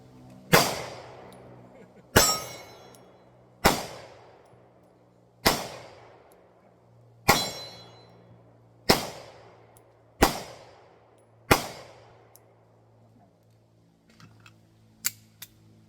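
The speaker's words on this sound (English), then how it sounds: "now I'm gonna shoot the Beretta APX A1 Carry" Eight evenly spaced sharp gunshots from a Beretta APX A1 Carry pistol fired at steel targets outdoors, each crack followed by a ringing decay, then faint metallic clinks and a small pop at the end.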